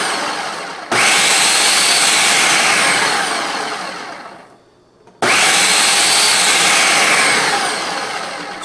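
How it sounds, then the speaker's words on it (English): A food processor pulses Parmesan cheese into a fine powder in two loud, close bursts of whirring motor noise, each winding down before a short pause, with no talking. "So we're just going to pulse it a few times."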